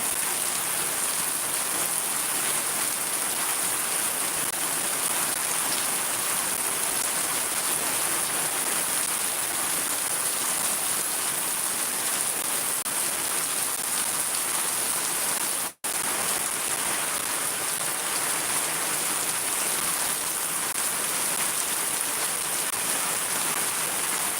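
Heavy rain pours steadily in Shariatpur, a dense, unbroken hiss of downpour on surfaces, loud and continuous with no voices.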